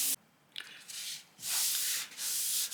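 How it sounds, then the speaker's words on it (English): Sprayed aerosol guide coat on a Triumph TR6 panel being rubbed down by hand on a sanding block, heard as long, close, hissing strokes in bursts with brief pauses between them, no voices. "rub away, once the sprayed aerosol dusting has disappeared, then I know I've got a flat surface"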